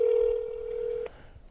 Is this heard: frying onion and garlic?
no